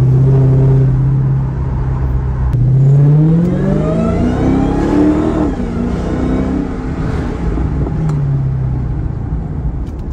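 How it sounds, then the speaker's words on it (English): A Dodge Challenger Hellcat driving through Las Vegas gives off a rising supercharger whine over loud engine rumble, climbing in pitch as it accelerates, then easing back into a steady cruise. "You guys hear that supercharger whine?"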